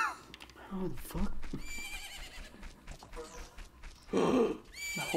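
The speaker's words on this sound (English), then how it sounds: "The horse." A horse neighs in a video game, whinnying calls rising over a cluttered game soundscape with hoof clip-clops, a loud burst near the end.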